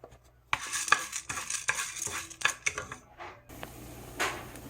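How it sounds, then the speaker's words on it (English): Chana dal roasting in hot coconut oil in a pan, with faint sizzling under clinking and scraping as a spoon stirs the split chickpeas, a few sharp taps, then a soft hiss. "I'm going to add the split chickpeas, chana dal, and roast it until golden brown."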